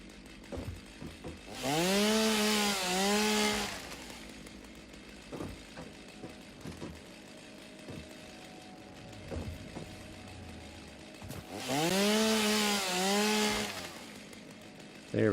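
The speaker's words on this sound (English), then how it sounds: "The sound of that chainsaw gets pretty annoying there after a moment" Chainsaw in the video game Satisfactory cutting through trees, two loud revving bursts of a few seconds each with rising and falling pitch, separated by quieter game ambience and small clicks.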